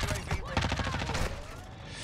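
Rapid MP5 submachine gun bursts in Modern Warfare 2, a quick string of close, sharp shots firing in a tight rhythm for about a second and a half before trailing off, with some voice underneath.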